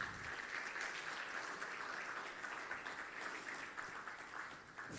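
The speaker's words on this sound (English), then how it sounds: "Another round of applause, please." An audience at a Central Bank of Nigeria keynote address gives sustained applause, a continuous, even roar of many hands clapping, heard at a moderate distance without speech.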